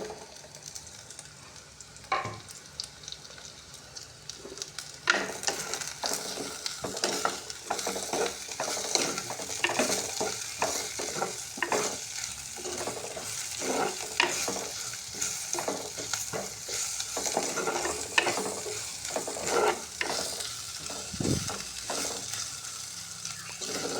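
Mushroom curry ingredients sizzle and fry in hot oil in a pan, with a constant crackle broken by repeated scraping stirs, heard close up and with no talking.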